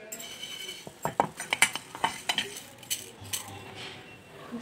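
Whole spices, namely cinnamon, cloves, coriander seeds and cardamom, are stirred in a little oil for a Bisi Bele Bath masala. A spoon scrapes and clinks against the pan in a quick run of close taps, and a faint sizzle sits underneath.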